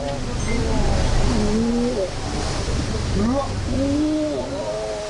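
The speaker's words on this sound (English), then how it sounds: "The tsunami rearing up as the water beneath it grew shallower" A tsunami swells and rears up at sea about five kilometres offshore, filmed from a Coast Guard boat: a steady, loud roar of rushing water and engine noise, with tonal sweeps over it and no pauses.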